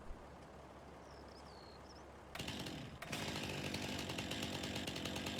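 A chainsaw cutting down a signpost in the Farming Simulator 19 video game: after a quiet stretch with faint birdsong, the saw roars in loudly and holds a steady, buzzing whine with a brief dip before revving back up.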